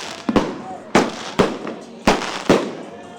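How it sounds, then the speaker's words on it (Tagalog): New Year firecrackers and fireworks explode in Tondo, Manila, as a rapid series of sharp, loud bangs arrives at irregular intervals, each followed by a brief crackling decay. "Panandalian man ang pailaw at paingay ng mga paputok sa pagsalubong sa bagong taon,"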